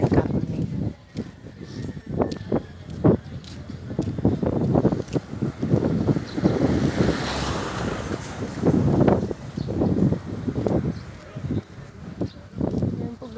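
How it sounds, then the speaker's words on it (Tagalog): Gusty wind rumbles and buffets the microphone outdoors at a morning market, with people talking throughout and some background activity. "mahangin"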